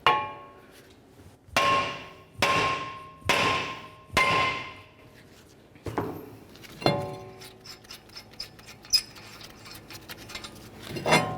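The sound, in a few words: hammer tapping on steering knuckle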